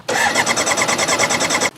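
A motorcycle that broke down by the roadside cranks repeatedly without catching, a fast, steady run of close mechanical pulses lasting over a second before cutting off abruptly.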